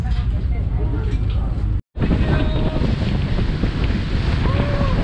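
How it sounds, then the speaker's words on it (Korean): A speedboat races across Ha Long Bay, its engine and hull roar steady and loud beneath heavy wind buffeting the microphone, with a brief dropout partway through and no voices clearly heard. "시원한 바람을 가르며 스피드보트는 달립니다."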